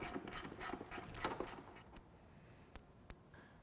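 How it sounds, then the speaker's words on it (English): A 10mm fastener being loosened where a Polaris fuel tank bolts to the tunnel: a run of quick, close ratcheting clicks fades into a few isolated metallic ticks. "we're going to go ahead and loosen up the 10mm fastener that holds the fuel tank to the tunnel"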